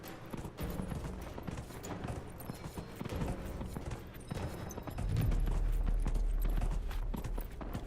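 Horse hooves clip-clop steadily in the fantasy game Dragon Age: Inquisition, a rhythmic trotting beat under game ambience and music that grows louder toward the end.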